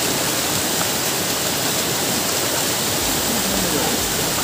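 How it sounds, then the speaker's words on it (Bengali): Kyukhola Falls in Sikkim pours down from a height, a dense, constant roar of falling water heard up close. "এত ওপর থেকে জল পড়ছে, এত কাছে দাঁড়িয়ে কিন্তু ছিটকাচ্ছে না গায়ে"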